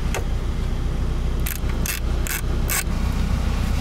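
Bolt work on a glove box brace inside a 1992 Mazda Miata, with a tool turning an 8 mm bolt: four or five short bright metallic ratchet bursts over a steady low hum, close by, with no talk.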